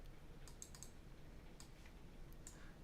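Several quick, faint clicks of a computer mouse while patching objects in music software, scattered in small bursts over a quiet room hiss.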